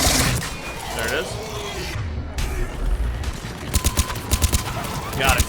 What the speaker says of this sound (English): Let's get this cool sounding gun out.